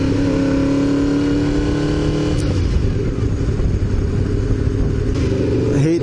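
City traffic from a moving motorcycle: a close engine drone with a rising rev and tonal whine early on, then a rough, steady rumble mixed with wind noise and surrounding road sound.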